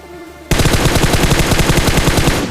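Video-game gunfire bursts in suddenly and loudly after a quiet opening, then keeps going as a rapid, continuous automatic rattle close up, with no talking over it.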